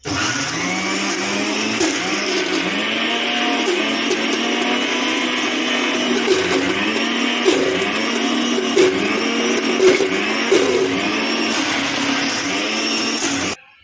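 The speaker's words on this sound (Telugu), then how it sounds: "మనం మిక్సీ పట్టుకోవాలి." Loud, continuous whirring of a mixer grinder blending gongura chutney, its motor pitch wobbling slightly in a steady rhythm before cutting off at the end.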